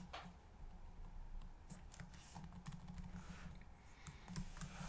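Steady computer keyboard typing as Java code is entered: a continuous run of close, quick key clicks and taps, lasting the whole stretch with no voices.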